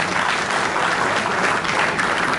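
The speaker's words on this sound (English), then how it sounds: "Please let's give her a hand of applause." A conference audience at the Lagos Builders' Conference in Lagos breaks into dense, loud, sustained applause that continues evenly throughout, with no voices over it.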